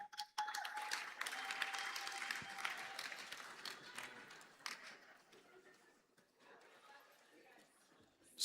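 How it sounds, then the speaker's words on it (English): Applause for a performer at a youth innovation summit, a burst of crowd clapping that swells early, then tapers off unevenly, with a voice faintly over it. "Ladies and gentlemen, a round of applause for Mariam Acham"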